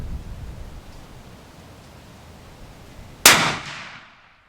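A single loud, sharp rifle shot from a Thompson Center Compass II chambered in .338 Win Mag, cracking out over steady wind-like outdoor background noise and trailing off into a short decaying echo.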